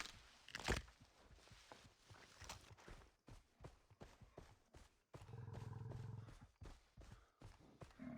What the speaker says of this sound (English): I heard like a low growl. I hope there's not a tiger nearby.